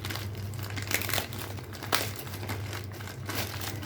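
Stiff, hard plastic packaging around a pair of jeans being crinkled and crushed during unboxing, a continuous close crackling with several sharper rustling bursts and no voices.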